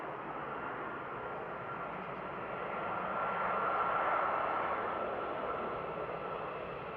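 United Airlines airliner bound for Newark at Edinburgh Airport, a steady distant jet rumble that swells gently midway and then eases, heard alone without talk.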